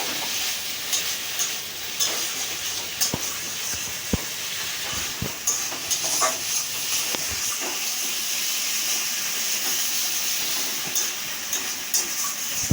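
A cumin and ginger paste sautés in a pan for a fish curry in a village kitchen, giving a steady broad hiss and sizzle with scattered clicks and faint knocks, loud and continuous.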